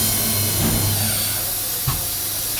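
A DMG Mori Dura Vertical 1035 ECO machining center, a 40-taper mill spinning at 4,500 RPM, gives off a loud, steady hiss and whine with a low hum underneath, continuous and close.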